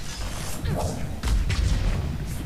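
Biotic explosions in Mass Effect 3 multiplayer on the Glacier map, a quick string of muffled thuds and whooshing bursts layered over game noise.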